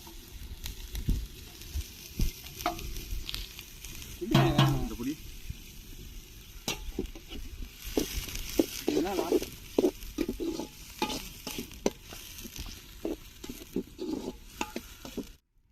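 Onions fry in a pot for duck curry over a wood fire, with a bubbling sizzle broken by frequent spoon scrapes and stirring clatter, close and fairly busy, and a voice briefly heard in the background.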